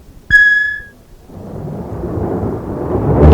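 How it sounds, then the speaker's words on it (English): Rolling thunder in a storm scene: a brief tone sounds first, then a low rumble builds and swells steadily louder over a few seconds, with no voices. "In the distance was the sound of thunder."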